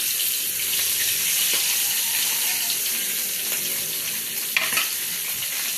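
Steady, crackling sizzle of food frying in a hot pan, continuous and close, with a few brief clinks near the end.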